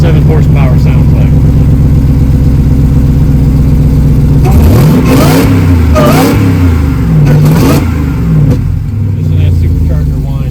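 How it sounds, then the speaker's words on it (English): A supercharged 707-horsepower Jeep engine at an outdoor Jeep show idles loudly, then revs hard in several sharp surges with rising supercharger whine, close and dominant. "This is what 707 horsepower sounds like."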